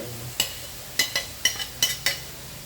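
Shredded chicken tipped into melted butter in a pan, giving a few sharp scraping and clinking hits of a utensil against the pan at an uneven rhythm over a faint low sizzle, close by with no talk.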